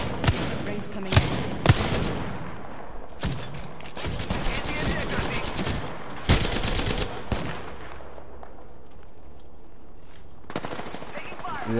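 Rapid bursts of automatic gunfire and scattered single shots ring out in a PS4 online shooter game, loud and dense across the whole stretch with several sharp peaks, easing off briefly near the end before another burst.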